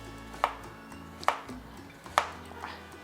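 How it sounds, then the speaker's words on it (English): A kitchen knife chops carrots on a cutting board in Ecuador while salsa and soup are prepared, four separate sharp thunks spaced about a second apart, close and clear over a faint steady hum. "So right now, I'm cutting up my carrots."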